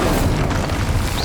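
A fiery Incendio spell blast from the Hogwarts Legacy video game: one loud, booming burst that fills the moment and sustains as a dense rumble for about a second.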